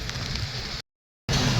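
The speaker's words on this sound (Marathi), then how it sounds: "खूप पाऊस चालू आहे, तुम्ही पाहू शकता" Heavy rain pouring onto the Nashik–Mumbai highway as a steady, loud wash, broken by a short dead gap before it resumes.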